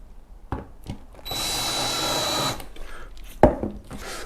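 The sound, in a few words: power drill driving trim screws into wood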